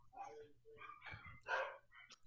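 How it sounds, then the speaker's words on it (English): Dogs barking in short bursts across a couple of seconds, fairly faint and distant-sounding over a low background hum, with a few yips between the barks. "dogs, but they must be far away"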